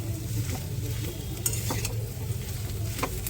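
Mashed potato stirred and fried in a pan for aloo paratha filling, a brief close stretch of steady sizzling with a few soft spatula scrapes and taps, no voices.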